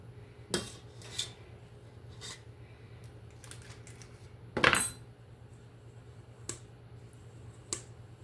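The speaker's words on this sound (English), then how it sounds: "We're going to scrape the bowl down, make sure you get all that cookie dough that you can" Spatula scraping butter pecan cookie dough from a mixing bowl, a few brief separate clinks and scrapes with one louder rasping stroke midway, sparse over a low steady hum.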